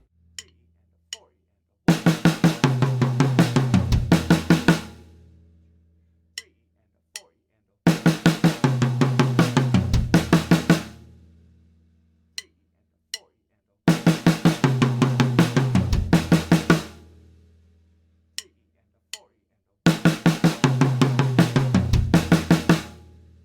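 A drum kit plays a sped-up pattern with 16th-note fills, four dense bursts of rapid strokes each lasting about three seconds, separated by gaps holding a few isolated single hits, loud and close with a short decay.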